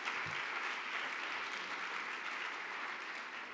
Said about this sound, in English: Give her a round of applause for that poetry.